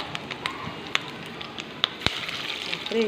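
Hot oil crackles and spits while gram-flour and chili fritters fry in a kadai, a continuous low sizzle broken by a few sharp pops, close and fairly quiet, with a voice talking faintly underneath.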